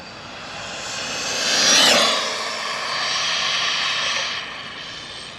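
An RC car with a Castle 1512 2650kv motor on 3S runs at full throttle, a loud high-pitched electric whine that rises to a peak as it passes close, then holds steady and fades.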